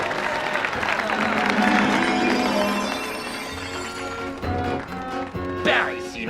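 An audience at a magic show applauds, a dense wash of clapping for the first few seconds that thins out under music and voices.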